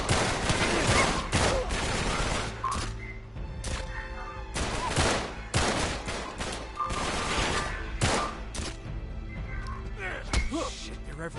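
Rapid bursts of automatic gunfire in a PS4 video game crackle in dense volleys, broken by brief lulls, loud and close throughout the clip.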